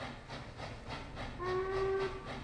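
A steam train in the railway game Transport Fever 2 sounds a short, steady whistle over the rhythmic chuff and rumble of the moving locomotive, heard at moderate distance.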